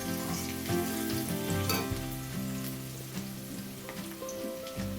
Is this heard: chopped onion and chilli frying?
yes